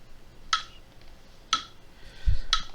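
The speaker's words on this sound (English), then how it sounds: "when we play our metronome" Metronome ticking in 4/4 time, three crisp clicks spaced about a second apart, the accented downbeat pitched higher, alone and moderately loud with a faint low thump near the end.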